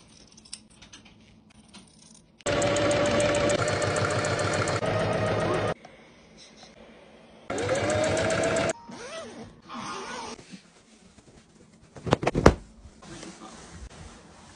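A sewing machine stitches a patchwork pillow in two bursts of rapid, steady mechanical whirring, followed by quieter handling and clicks with one sharp knock near the end.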